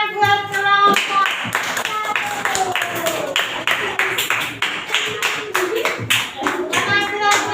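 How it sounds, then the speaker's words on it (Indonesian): A classroom of students claps rhythmically for a group after its presentation, sharp hand claps in a steady beat, with children's voices and a short sung tone near the start and end. "Tepuk tangan buat kelompok"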